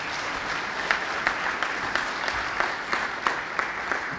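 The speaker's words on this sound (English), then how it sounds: "So big applause for all the guys." Steady applause from a conference audience at a Drupal Camp, dense and continuous clapping with a few sharper claps standing out, moderately distant and without voices over it.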